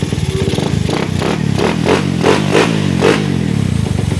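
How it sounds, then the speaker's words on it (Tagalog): A Suzuki Raider 150 motorcycle engine, freshly overhauled with a converted CDI and modified magneto, idles steadily up close, a loud continuous putter with a few brief rev swells and light mechanical clatter. "Ito ang andar niya kasi naka-convert itong kanyang CDI at mayroong minago sa magneto."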